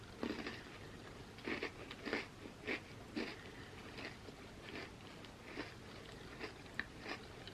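Close crunchy bites and steady chewing of an Oreo cookie with dip during a vegan chips-and-dip mukbang, a run of crisp irregular crunches over several seconds with no talk.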